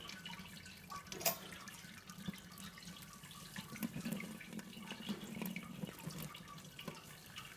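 Faint, steady trickling and dripping water with small splashes as hot water runs through a grain bed while brewing honey ale, quiet and close, no voices.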